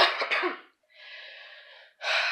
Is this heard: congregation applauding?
no